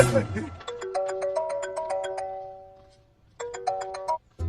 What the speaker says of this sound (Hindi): राजू भैया, आपको किसी का फोन आ रहा है।